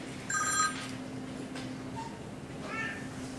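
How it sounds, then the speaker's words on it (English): A telephone rings in a classroom-like room, a few short electronic trills at a moderate distance over a steady background hum, with no one speaking. "as the phone continues to ring."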